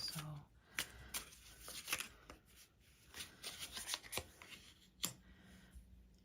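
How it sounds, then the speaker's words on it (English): Tarot cards are shuffled and handled close up, producing crisp riffles, slaps and papery flicks in irregular bursts, with soft speech in the background. "while I'm handling the cards"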